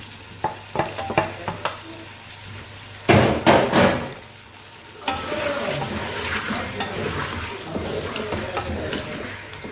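Chopped tomatoes go into browned chicken frying for chicken biryani, with a loud burst of sizzling and spattering as they hit the pan. Stirring and clatter follow, and a steady fry hisses underneath.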